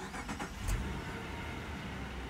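A Subaru Legacy 3.6R engine cranks briefly and catches, then settles into a low steady idle rumble.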